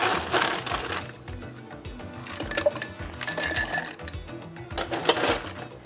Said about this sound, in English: So we're going to give this a nice stir as well.